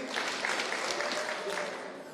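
Crowd applause at a Kiambu county political gathering as an honourable member is introduced: steady, dense clapping that carries through the whole stretch at a fairly loud level.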